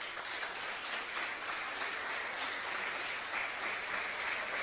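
An audience at a commemorative ceremony claps steadily, a dense, even applause heard from a distance and lasting close to five seconds.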